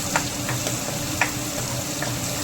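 Garlic, cumin and ginger paste with chopped green chillies fry in oil for an okra dish, giving a steady, close sizzle with a few faint ticks and pops.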